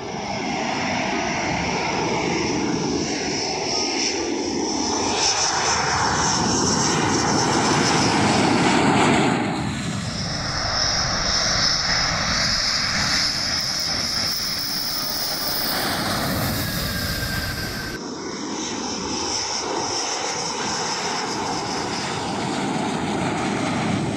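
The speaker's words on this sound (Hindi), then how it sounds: "वायु शक्ति राफेल के 3 और विमानों ने भारत की माटी को नमन किया।" Rafale fighter jets flying overhead in India, a loud sustained roaring engine rush that swells and shifts in tone over many seconds before easing slightly near the end.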